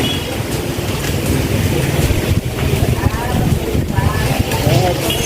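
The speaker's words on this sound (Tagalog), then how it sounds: "ang lakas talaga ng hangin" Strong gusting wind buffets the microphone at a tropical beach resort, a loud continuous rumble with broadband roar, while a voice speaks intermittently over it.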